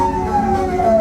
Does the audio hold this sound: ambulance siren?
yes